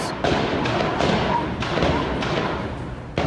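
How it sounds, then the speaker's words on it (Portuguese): A series of sharp, loud bangs in quick succession from a shootout between police and burglars at luxury homes, echoing outdoors, with a steady background hiss. "Neste vídeo gravado por um morador é possível ouvir a sequência dos tiros"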